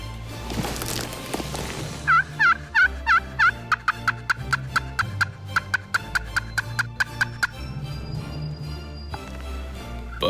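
A wild turkey gobbles repeatedly in the Quebec outdoors: an opening noisy burst, then a run of loud, rattling gobbles that break into rapid, evenly spaced clicking pulses before fading to quieter background.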